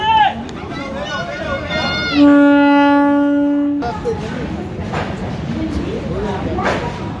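At a railway station, a train sounds a long, steady horn blast lasting over a second, then rumbles on under crowd babble and voices.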